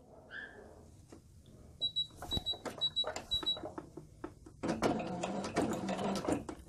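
Sewing machine running a short backstitch on a quilted 9-patch pot holder, a quick burst of close mechanical needle clatter in uneven spurts, louder toward the end.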